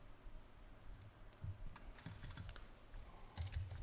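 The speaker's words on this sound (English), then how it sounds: "Typing too fast." Rapid typing on a computer keyboard, dense bursts of clicks and key taps close by, with a brief pause partway through; no talking.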